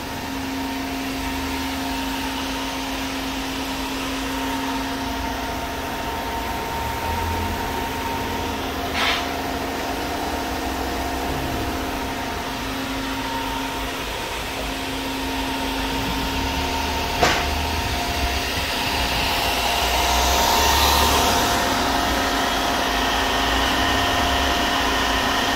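A 2011 DMS 5-axis CNC router with a 5 by 10 foot table and Fagor 8055M control runs its spindle, giving a steady loud mechanical whine and hum throughout, with a couple of brief clicks and no talk.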